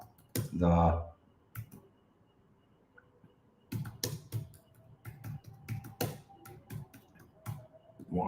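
A computer mouse clicks in quick, irregular bursts of sharp, close taps, scattered between moments of a person speaking.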